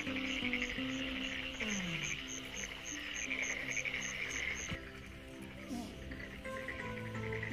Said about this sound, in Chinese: 青蛙也在叫